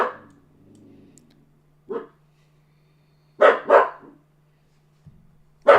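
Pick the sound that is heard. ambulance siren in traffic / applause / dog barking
dog barking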